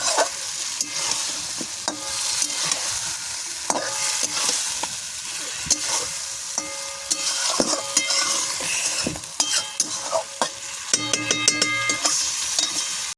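Soybean chunks frying in a pan, cooked like meat over low gas, with a constant sizzle under repeated nearby spatula scrapes and metallic clinks, no speech.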